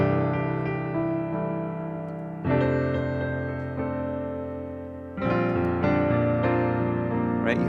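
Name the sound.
piano playing rootless major 6/9 chords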